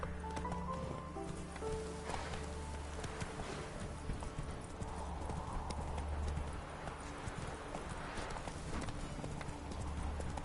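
Roach, a horse in The Witcher 3 video game, gallops at a steady pace with repeated clip-clop hoofbeats over a quiet ambient background.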